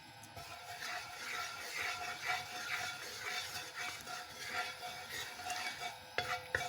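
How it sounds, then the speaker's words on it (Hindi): Grated carrots frying in ghee in a pan, a soft, steady sizzle with gentle scraping and stirring, fairly faint and continuous, ending in a couple of light clinks. "तो इसमें मैं गाजरें जो हैं वो फ्राई करूँगी।"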